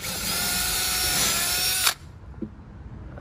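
A power drill whines steadily and loudly while boring a pilot hole for a screw during the building of a floating bench, then cuts off abruptly, leaving a faint knock and quiet room noise.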